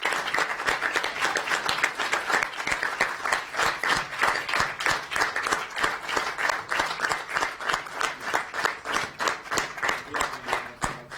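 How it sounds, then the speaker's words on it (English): Sustained applause at a city council session, many hands clapping in a fast, even rhythm for the whole stretch, a room-filling round with faint voices beneath. "could we have a great round of applause for each of them"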